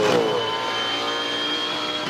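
A Supercars V8 race car screams at high revs on the Auckland 500 street circuit in 2014, a loud sustained engine roar with a pitch sweep near the start, holding steady as it runs flat out.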